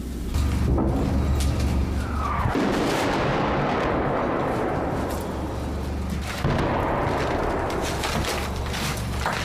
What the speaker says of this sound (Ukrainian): Це арта почала, так?